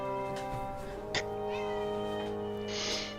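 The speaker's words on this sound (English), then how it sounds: "Oh, that's my cat telling me to feed her." A house cat meows a few times, drawn-out and moderately loud, over a steady background hum.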